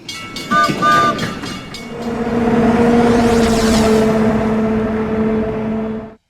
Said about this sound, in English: They're called rapid transit trains.